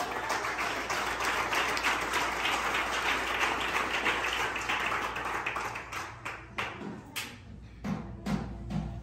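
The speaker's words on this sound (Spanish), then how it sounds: "Dame un aplauso a Jesús." A church congregation applauds during a Spanish-language service, a thick, steady wash of many clapping hands that thins out into scattered, separate claps toward the end.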